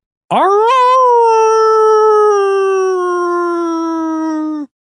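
A person imitates a wolf howl in the manner of Eddie Munster: one long, loud, close howl that swoops upward and then holds a steady wavering pitch for several seconds before cutting off, with nothing else heard.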